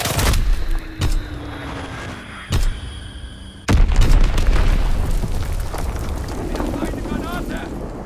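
Heavy bomb blasts in the World War II shooter Call of Duty: WWII, a few sharp booming impacts followed by a long rumbling roar with wind-like noise, loud and near.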